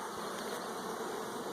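A steady, dense buzz of many honeybees swarming over an opened hive frame, close and continuous, with no talking.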